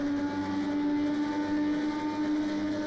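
An IndyCar engine in the Project Cars 2 racing game holds a steady, high-pitched, buzzing drone at high revs, heard alone and fairly quiet.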